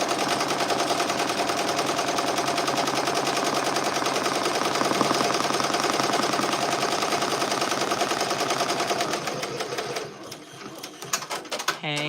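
An embroidery machine stitches a banana man design, running as a loud, continuous rapid needle chatter for about ten seconds before slowing into a few separate stitch clicks.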